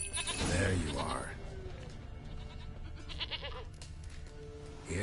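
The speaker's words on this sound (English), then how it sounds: "Here, goat." A goat bleats in The Witcher 3 video game, a couple of wavering cries near the start over game ambience, with a voice talking through the rest.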